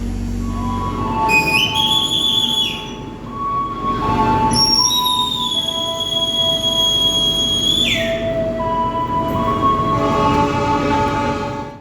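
The KA Jayabaya economy-class train from Malang to Surabaya runs with a steady loud rumble, while sustained high tones and squeals rise and fall over the continuous rolling noise.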